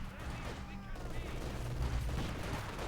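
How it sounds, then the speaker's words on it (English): Mortar fire in the real-time strategy game Company of Heroes 2, heard as dull booming blasts and rattling gunfire amid dense battle noise, sustained and fairly loud, with a commentator's voice mixed in. "Mortar firing down there."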